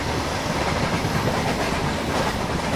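A Humsafar Express train running in the MSTS simulator with Indian Railways content, its steady wheel clatter and rail rumble sounding loud and continuous on a curve, with no voices.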